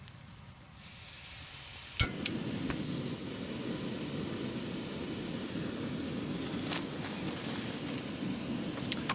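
A Jetboil camping stove burner lights inside a tent while wild camping on Dartmoor, jumping from near silence to a steady, loud gas hiss, with a sharp click shortly after ignition and a few light knocks.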